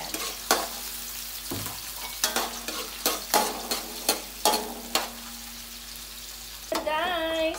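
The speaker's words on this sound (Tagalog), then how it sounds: "naluto na, nag-brown na yung ating onion at saka yung ating garlic" Onion and garlic sauté in a hot pan, a steady sizzle broken by a run of sharp clacks as a utensil stirs and scrapes them, with a brief louder hiss near the end.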